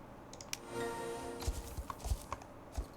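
Horse hooves clop in a video game, a quick uneven run of soft thuds close by, with faint music-like tones in the background.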